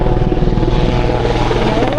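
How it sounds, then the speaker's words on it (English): Helicopters flying overhead along the Appalachian Trail near Newfound Gap, a loud steady rotor thrum with engine whine that fills the whole clip, with hikers' voices faintly mixed in. "There's the helicopters again."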